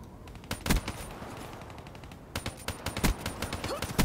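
Scattered gunfire in Black Ops 3 multiplayer: a few sharp shots early, a quiet stretch, then a cluster of quick cracks and bursts, moderately loud and nearby.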